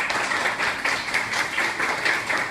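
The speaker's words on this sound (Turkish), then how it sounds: "Bir alkış arkadaşlar" Steady applause from a group of onlookers at a taekwondo belt exam, dense continuous clapping for a few seconds at moderate loudness.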